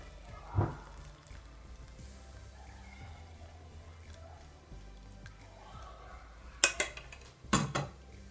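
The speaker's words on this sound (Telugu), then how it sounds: "చేసుకుని దీన్ని ఇలా తిప్పేసుకుంటే ఆ బెల్లం, జాగ్రీ ఉంది కదా, బెల్లం అంతా కరిగిపోతుంది" A spoon clinks against a metal pot while jaggery is stirred into strained masala chai: faint scraping at first, then a few sharp clattering knocks of metal near the end.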